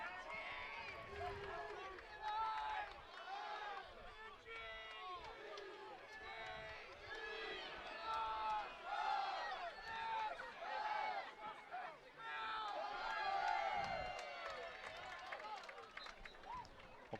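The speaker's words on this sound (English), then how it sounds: "Quite a crowd on hand here today at Reese Stadium" Spectators fill the bleachers at Reese Stadium for a Yale versus Princeton lacrosse game, a steady, fairly loud crowd murmur with cheering swells throughout, lifting noticeably near the end.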